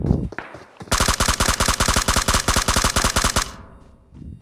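Rapid automatic gunfire during a close fight in the mobile battle-royale game PUBG Mobile on the Miramar map, a loud sustained burst of evenly spaced shots lasting about two and a half seconds before stopping abruptly.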